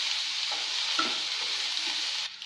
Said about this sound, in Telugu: ఆనియన్ ఫ్రై అయిన తర్వాత టమాటా ముక్కలు వేసి మళ్ళీ ఒకసారి కలుపుకోండి